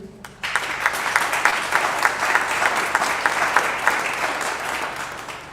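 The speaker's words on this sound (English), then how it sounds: "So, round of applause to you." Audience applause at the World Robot Olympiad awards ceremony in Zimbabwe, a dense steady burst of many hands clapping that starts abruptly and carries on evenly throughout, moderately loud and without talk.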